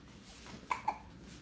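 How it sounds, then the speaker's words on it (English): A baby hiccups twice in quick succession, soft and close, over a quiet background hum. "He got the hiccups going on."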